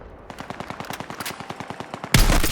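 Automatic weapon fire in the video game Battlefield 6 during a combat mission, a fast steady string of loud close shots ending in a sharp heavier blast, with no talking.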